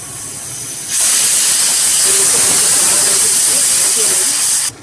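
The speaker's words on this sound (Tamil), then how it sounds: "இன்னும் ஒரு விசில் வந்து ஆஃப் பண்ணிவிட்டு நம்ம வெள்ளைப்பாக காய்ச்சிக்கலாம்" A pressure cooker of chana dal vents its whistle, a loud, continuous high hiss of steam that starts abruptly and holds for nearly four seconds before cutting off.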